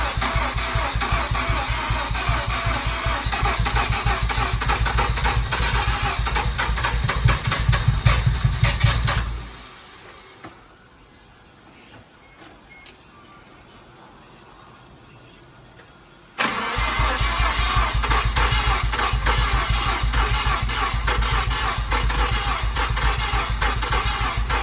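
A Mazda RX7 rotary engine with new turbos, run on a Link ECU, fires up and runs loud and rough, cuts out into near quiet for several seconds, then restarts and settles into a steady, close idle.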